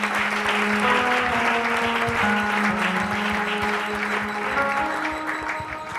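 Congregation clapping during a French-language church service, a continuous, even applause that lasts the whole stretch, with a low sustained tone, likely music, humming beneath it.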